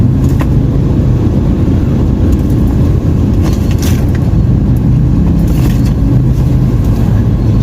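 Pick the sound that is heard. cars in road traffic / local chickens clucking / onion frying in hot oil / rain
cars in road traffic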